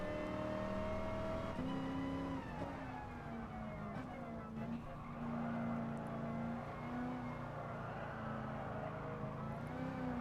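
A Ford GT40 race car in Gran Turismo Sport revs hard at full throttle, its engine note climbing and settling steadily in a continuous, loud, harmonic drone.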